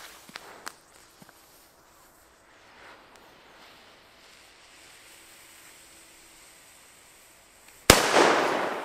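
A Cobra 3 BP4 black powder firecracker is set off: quiet ticks and footsteps lead to one sharp, loud bang near the end, followed by a rushing, decaying blast tail.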